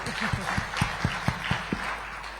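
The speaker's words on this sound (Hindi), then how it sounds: "तालियां भविष्य के लिए।" Audience applause at the Pankh Awards 2026 sports honours ceremony in Bhopal, a short burst of scattered, rhythmic hand claps heard moderately close and fairly soft, tapering off after a couple of seconds.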